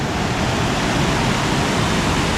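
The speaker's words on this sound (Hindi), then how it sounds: "यहाँ से पानी बह रहा है और ये वहाँ से आ रहा है सामने से" A mountain stream flows under a bridge as a steady, dense rush of water, loud and continuous with no other sounds over it.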